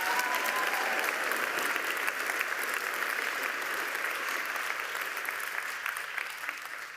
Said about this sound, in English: Let's give her another huge round of applause.